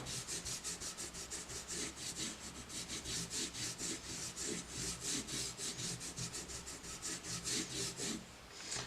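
A polishing compound bar is rubbed back and forth over a large homemade leather strop, giving a steady rhythmic scraping of about two strokes per second, close but quiet, with no voices.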